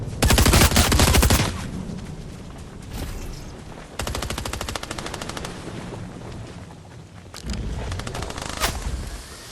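Gunfire in a Fortnite battle royale match on PlayStation 4, with sustained rapid automatic bursts, loud and close, rolling on almost continuously for several seconds with brief shifts in intensity.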